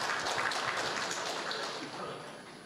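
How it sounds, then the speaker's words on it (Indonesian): Audience at an Indonesian government event breaking into lively applause, a continuous roomful of clapping that holds steady and tapers slightly toward the end. "Boleh tepuk tangan yang meriah."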